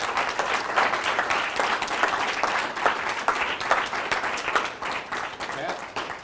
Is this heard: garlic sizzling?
no